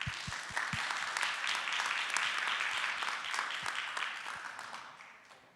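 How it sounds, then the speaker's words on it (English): Fairly faint audience applause at WordCamp Lithuania, a steady roll of many hands clapping in a conference hall that swells briefly and then fades away toward the end. "share a round of applause to show"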